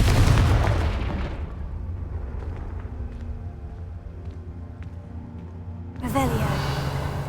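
A Confringo fire spell explodes in the video game Hogwarts Legacy with a loud, broad burst that fades over about a second into a low rumbling tail, then a second crackling blast erupts near the end.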